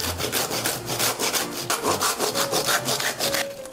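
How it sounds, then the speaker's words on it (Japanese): A handsaw grinds through the hard bone of a 150 kg tuna head, a loud, rough rasping with a steady back-and-forth stroke rhythm, close and continuous. "今日もねノコギリで切っていきます"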